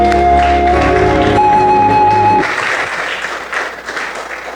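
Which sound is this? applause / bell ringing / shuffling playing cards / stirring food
applause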